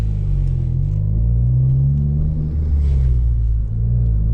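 A Ford Focus ST is driven with all the windows down, its engine giving a deep, steady rumble with low droning tones that rise and fall slightly, close and fairly loud, with no talking.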